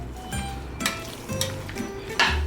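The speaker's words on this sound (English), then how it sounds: "let's give this a stir" A pot of hearty homemade chili stirred on the stove, with spoon scrapes and a soft bubbling sizzle in a few short passes, close and fairly quiet.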